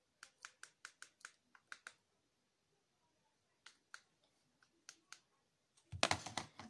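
Quick bursts of key clicks on a computer keyboard, close and crisp, in short uneven runs with pauses between them, ending in a louder rustling clatter.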